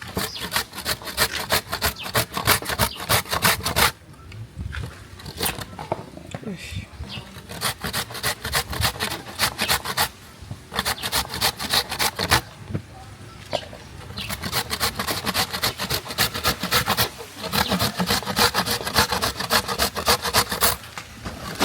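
A coconut is grated on a hand grater in rapid, rasping scraping strokes, loud and close, broken into bursts by short pauses, with faint talk in the background.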